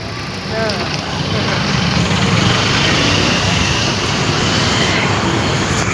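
An auto rickshaw ride brings a steady roaring engine drone and road noise, swelling after the first second and holding loud and continuous.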